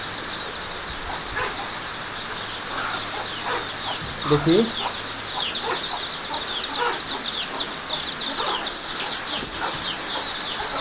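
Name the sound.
domestic chickens clucking in coop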